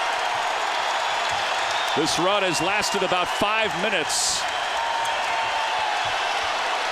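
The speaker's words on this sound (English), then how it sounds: "Listen to this crowd." A Creighton Bluejays home crowd cheering in a basketball arena during a run against Xavier, a steady loud roar beneath an announcer talking over it.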